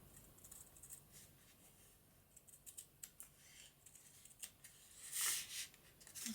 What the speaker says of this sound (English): So I'm going to trim that down a little bit, which is probably deadly because I am hopeless with scissors.